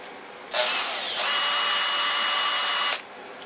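A power drill spinning a mash paddle in homebrew beer mash whirs up and runs steadily for a couple of seconds with a high, even whine, then cuts off abruptly.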